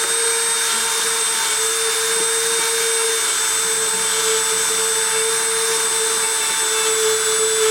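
A deposition tool runs with a loud, steady mechanical whine and strong tonal hum, unbroken and close throughout, with no voices.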